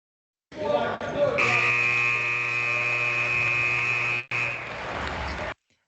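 A loud electronic buzzer sounds in one long continuous blast with a brief break near the end, harsh and steady throughout.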